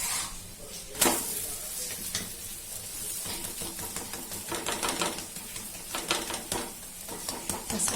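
A thin aloo paratha cooks on a hot pan brushed with ghee, giving a steady soft sizzle with scattered scraping and tapping clicks from handling, close and moderately loud throughout.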